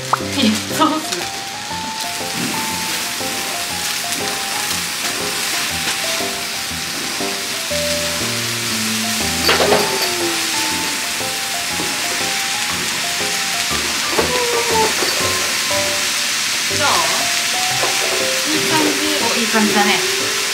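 Yakisoba noodles sizzle and crackle steadily on a hot griddle, with occasional scraping and stirring clatter close by, a constant loud frying hiss throughout.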